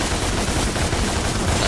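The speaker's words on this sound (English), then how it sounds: "I guess you can shoot him at that point." Rapid gunshots in Devil May Cry (DmC), a loud, dense burst of fast repeated shots filling the whole moment without pause or voices.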